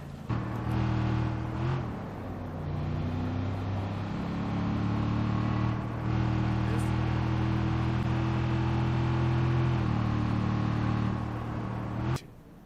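A car in the video game Watch Dogs 2 accelerates with a steady, loud engine drone that holds and shifts pitch for about twelve seconds before cutting off abruptly.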